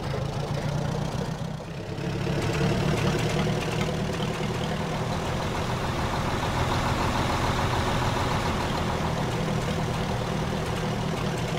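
Tractor engine with difficulties in ARMA III, a steady, loud, rough running drone that dips briefly then holds.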